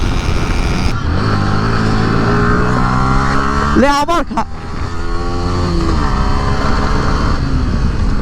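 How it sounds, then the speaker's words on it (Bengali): Motorcycle ridden fast at about 124–125 km/h on an empty highway, a loud, close engine drone with rising and falling pitch as the rider shifts, plus heavy wind rush and the rider talking over it. "একশো চব্বিশ পঁচিশে বাইক চালাচ্ছি"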